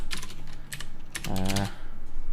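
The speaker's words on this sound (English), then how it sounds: "just had a new keyboard, so my typing's a little bit funny at the moment." Rapid clattering keystrokes on a new computer keyboard, a close, fairly quiet burst of typing in quick irregular clusters, with a short voiced sound partway through.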